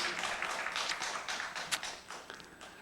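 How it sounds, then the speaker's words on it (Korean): A church congregation at a Sunday service claps in praise, a fairly faint, dense patter of many hands lasting a few seconds, with a couple of sharper claps standing out before it thins. "우리 하나님께 영광의 박수를 크게 돌립니다."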